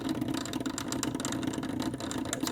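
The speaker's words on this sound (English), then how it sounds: "It looks like the drive motor is spinning." A Seeburg 1000 jukebox drive motor spins with a steady mechanical whir and faint rattling, holding even and continuous at close range without any voices.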